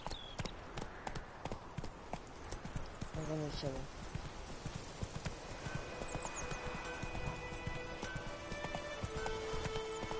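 Horse hooves clip-clop in The Witcher 3, a steady rhythmic trot running under near-constant talk, with a brief whinny partway through.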